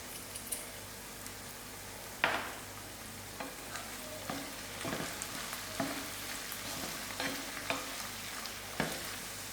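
Oyster mushrooms seasoned with black pepper fry in a pan, a soft continuous sizzle broken by repeated light stirring scrapes and taps at an even, unhurried pace.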